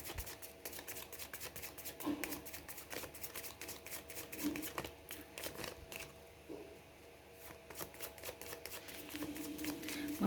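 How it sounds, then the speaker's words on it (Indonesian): Tarot cards being shuffled by hand, a quiet continuous rapid riffling patter with soft flutters and occasional taps, close and faint with background noise from outside. "Oke, saya kocok kartunya."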